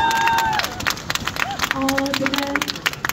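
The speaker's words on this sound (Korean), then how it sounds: "박수 한번 주세요." Audience applause and cheering at an outdoor traditional-house concert at Byeongam Seowon in Daegu, a steady crowd clapping under lingering music tones and some murmuring voices.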